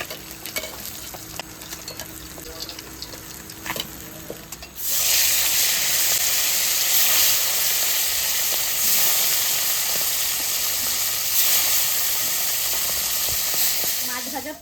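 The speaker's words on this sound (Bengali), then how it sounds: "তেলে আর একটু তেল দিয়ে দেবো জিরে তেজপাতা শুকনো লঙ্কা তেলে দিয়ে দেবো" Cumin, bay leaf and dried chili dropped into hot oil in a pan after fish frying, bursting into a loud, steady sizzle and hiss after quieter kitchen clatter at the start.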